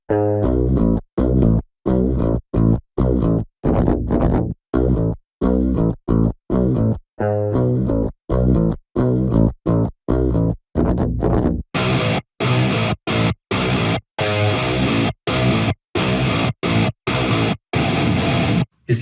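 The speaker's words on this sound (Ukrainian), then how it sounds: "Послухаємо, як звучить наша гітара без обробки." An electric guitar with no processing plays a choppy, palm-muted deathcore rhythm in tight, rapid bursts separated by sharp silent stops, loud and alone.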